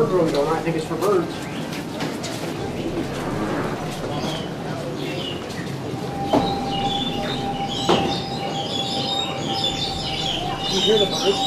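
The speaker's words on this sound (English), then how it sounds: "You hear the birds going?" Birds chirp in an aviary at Maharajah Jungle Trek, scattered high calls and one sustained whistling tone over a busy background of crowd noise, while people talk nearby.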